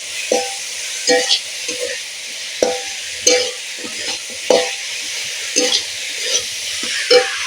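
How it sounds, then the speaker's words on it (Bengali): Spices frying in a pan for a jackfruit-seed dish, with a steady sizzle broken by repeated scraping stirs roughly every half second, close and moderately loud, no talking. "মশলা আমি ভালো করে ভেজে নেব পুরো মশলার গন্ধটা যাতে বের হয়ে যায় ততক্ষণ আমি মশলা ভাজতে থাকবো"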